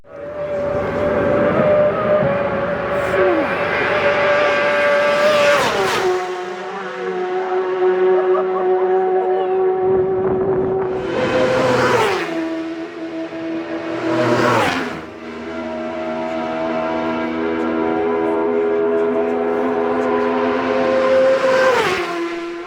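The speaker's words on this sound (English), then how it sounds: "It's really hard to describe the feeling as these bikes whiz past." Race motorcycles at the Isle of Man TT tear past a close roadside spot at Sulby Glen, several loud high-revving passes rising and dropping in pitch, each bike screaming by and fading between sustained engine drones.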